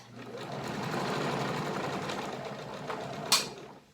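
Sewing machine stitching a fabric seam with a 1/2 inch seam allowance, a close, continuous rapid mechanical whirr for several seconds ending with a brief click.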